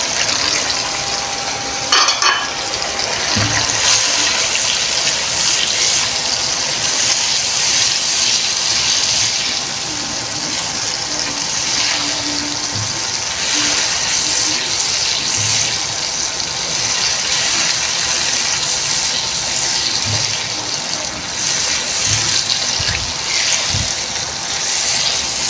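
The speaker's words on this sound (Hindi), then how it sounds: "फिर हम इसमें थोड़ा ग्रेवी के लिए पानी डालेंगे।" Water goes into a hot pan of fried spiced masala with salt, chilli and turmeric to make the gravy for Khandwiyan salan, producing a loud, steady hiss and sizzle throughout, broken by occasional soft knocks of stirring.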